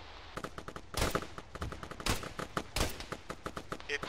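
Bursts of automatic gunfire in the military simulation game Arma, laying suppressing fire on troop trucks on a road, with loud overlapping volleys and scattered single shots at varying distances.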